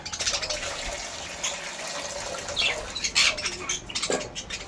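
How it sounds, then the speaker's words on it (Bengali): Water drawn from a tap into a container for pet birds, a steady splashing fill with some clinking of the vessel and a few faint bird chirps in the background. "এই আমি এক লিটারের মতো জল নিয়ে নিয়েছি"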